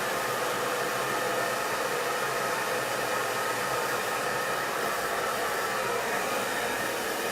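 Hair dryer running on full heat, a steady, loud broadband whoosh of blowing air held close and unbroken for several seconds, with no talking.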